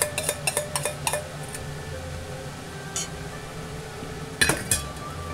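Onions tumble into a pressure cooker pot for a pot roast, giving a quick run of metallic clinks and knocks, then a pause, a single tap and a final cluster of clanks, close and fairly quiet.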